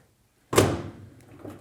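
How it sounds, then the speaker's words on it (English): A GE stackable dryer door is lifted off its hinges, giving one sharp close clunk followed by a short rattling settle, then quiet. "So now all we need to do is just lift the door itself"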